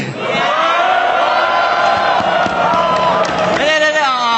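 A live event crowd at Ahon 7 cheers loudly and steadily, with whoops and yells forming a dense, continuous roar that swells near the end.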